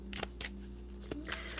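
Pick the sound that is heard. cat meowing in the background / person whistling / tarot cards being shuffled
tarot cards being shuffled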